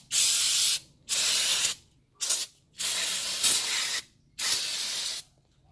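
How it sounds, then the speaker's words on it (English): Brake cleaner sprays from an aerosol can during a 2001 Toyota Highlander brake and rotor job: five loud, close hissing bursts of roughly half a second to a second each, separated by short silences. "Just using the last of my brake cleaner."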